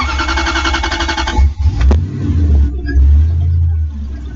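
A car engine with a newly set idle air control valve starts with a cranking whir, then catches into a loud, close, rumbling idle that surges slightly before steadying.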